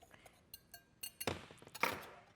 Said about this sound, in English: I'm just going to whisk this all together.